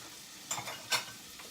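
Onions sizzling in a pan for matzo ball soup, a soft steady fry hiss with two brief scraping stirs of the pan, close and fairly quiet.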